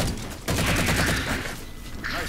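Dense automatic gunfire from the Halo 4 video game on PC, a sustained fusillade of rapid shots with loud battle noise and a voice over it, close and continuous.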